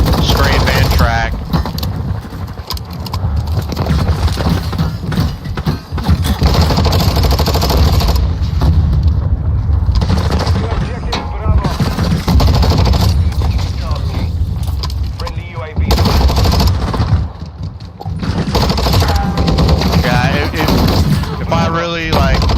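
Sustained rapid gunfire from Call of Duty: Modern Warfare II rattles almost without a break, loud and close, with a few brief gaps and a voice talking over it.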